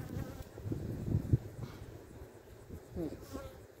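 Honeybees buzz around an open two-story beehive as frames are worked, a steady close insect drone with a few brief louder passes near the start and around the three-second mark.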